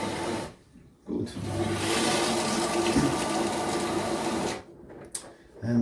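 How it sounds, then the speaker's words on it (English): Water rushes steadily into a Samsung EcoBubble washing machine after a leak repair, a continuous close hissing flow that starts and stops abruptly, heard alone without talk. "You can hear how the water is going in."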